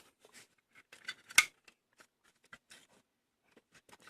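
A small paper warranty card is pulled out of the packaging of a Limitless RDTA Plus atomizer, heard as faint, close crinkles and scrapes with one sharper snap, with no talking.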